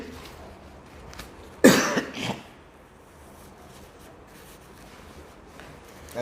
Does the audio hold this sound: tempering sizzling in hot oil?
no